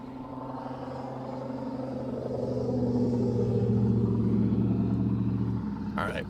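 Trucks drive by on a nearby road, a low engine rumble that swells and fades over several seconds and stops abruptly near the end.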